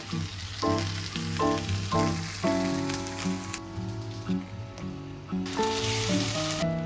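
Garlic sizzling in a frying pan with a steady, rain-like crackle throughout, while a strong tonal hum, probably background music, plays over it.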